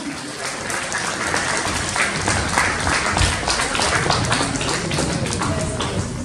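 Audience applause for the girls at a school celebration in a Rokiškis progymnasium, steady dense clapping throughout, loud and close, with faint voices mixed in.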